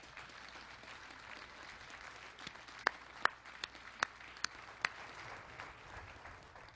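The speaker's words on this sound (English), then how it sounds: "please join me, since you jumped the gun, in another round of applause for this incredible family" Audience at an Army Medical Command assumption of command ceremony applauds a family, a soft, distant patter of clapping with a few sharper claps standing out near the middle.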